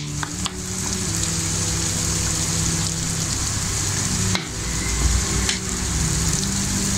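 Carrots, peas and boiled potatoes fry in a pan for spicy Chinese vegetable rice, giving a loud, steady, crackling sizzle that runs unbroken from start to finish with no voices.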